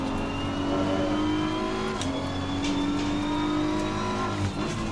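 Race car engine in the video game Assetto Corsa Competizione, a steady loud drone with rising pitch under acceleration, a brief shift break near the middle, continuous and close with no talking.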